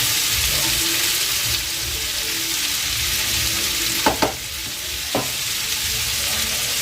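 Ivy gourd tossed with salt and turmeric sizzles steadily in a pan, with a few sharp spoon clinks against the metal near the end and no voices.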